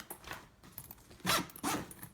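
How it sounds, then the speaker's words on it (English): A zipper on a Victorinox Vx Touring extra-large wheeled duffel bag is pulled in two quick raspy strokes, close by, with no talking. "Zippers."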